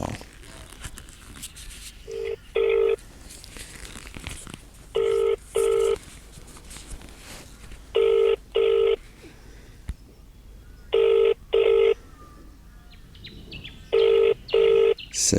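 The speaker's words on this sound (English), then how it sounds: "It is ringing now." A telephone ringing in repeated double bursts, five rings spaced evenly over a quiet background, loud and close.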